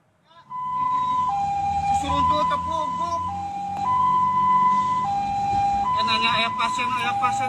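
An ambulance carrying a patient in Garut, West Java, escorted by a motorcyclist, sounds a loud, close two-tone wailing siren that alternates steadily and continuously over passing traffic.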